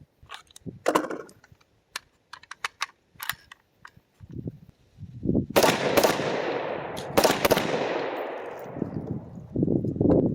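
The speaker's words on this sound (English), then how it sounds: "More muzzle blast out of my front." Gunfire at an outdoor shooting range during a test day: a string of sharp, loud cracks, then several heavier blasts with long rolling echoes, with scattered clicks and handling noises between them.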